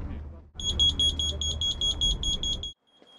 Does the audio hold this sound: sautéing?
no